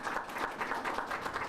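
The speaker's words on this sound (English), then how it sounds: "We'll give them another round of applause, maybe" An audience at an indoor air quality talk in a city speaker series applauds the speakers, with steady, fairly quiet clapping from a small room of people.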